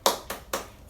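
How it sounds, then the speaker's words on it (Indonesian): Three sharp, evenly spaced claps from a class doing the 'tepuk semangat' chant, crisp and close with short gaps between them. "Tepuk semangat."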